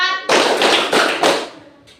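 In a classroom rhythm game, a group of children claps together four times in a quick, loud, closely spaced burst, preceded by a brief voice and fading into room sound.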